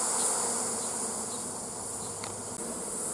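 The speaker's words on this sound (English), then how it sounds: "There'll probably be a wall of bees inside" Honeybees humming inside an opened hive, a thick, steady close buzz that holds at an even loudness throughout, with no voices over it.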